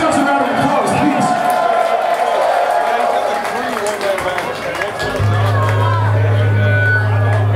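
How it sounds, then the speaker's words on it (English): A heavy metal concert crowd at the Wings of Metal 2015 festival applauds and cheers loudly throughout in a dense, continuous roar, with a low steady hum emerging near the end. "Give yourselves a round of applause, please."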